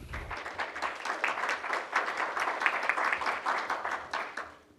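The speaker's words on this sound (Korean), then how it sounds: "우리 큰 박수 한번 쳐주십시오" Sustained applause from an audience at a city council policy forum, a dense, even crackle of many hands clapping at moderate distance, swelling slightly and then fading.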